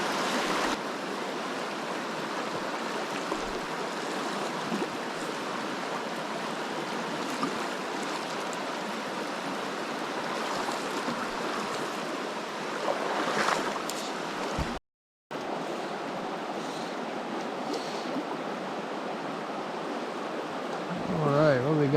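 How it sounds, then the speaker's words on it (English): Steady rushing water from a mountain creek, a continuous broadband wash close to the listener, with a brief dropout midway and a voice faintly heard near the end. "I'm gonna hit this creek"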